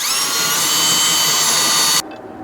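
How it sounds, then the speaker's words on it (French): A power drill with a wood bit bores through a wooden door during installation, a steady high-pitched whine running close and loud for two seconds before cutting off abruptly. "je perce avec une mèche à bois et je fais traverser"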